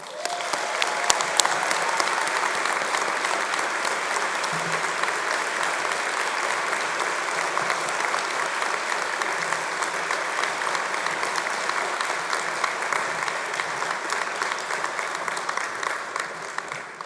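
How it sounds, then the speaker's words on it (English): Sustained applause from a large audience at an Open University degree ceremony in London, steady dense clapping with a faint murmur of voices mixed in for the whole stretch. "let's give them a tumultuous round of applause"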